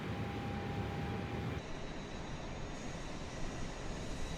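An Airbus A320neo auxiliary power unit runs in Microsoft Flight Simulator during a cold and dark startup at Chicago O'Hare, a steady loud mechanical hum with a whine that shifts pitch partway through, no talk.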